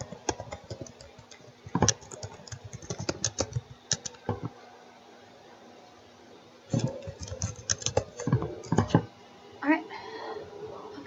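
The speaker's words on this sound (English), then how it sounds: "I can type." Typing on a computer keyboard comes in quick bursts of close key clicks, separated by quiet pauses, with light talk mixed in.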